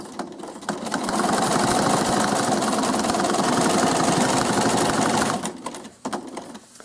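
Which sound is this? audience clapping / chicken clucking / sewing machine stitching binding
sewing machine stitching binding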